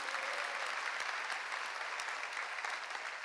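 Church congregation at a summer revival meeting breaking into sustained, dense applause, a steady wash of many hands clapping without pause.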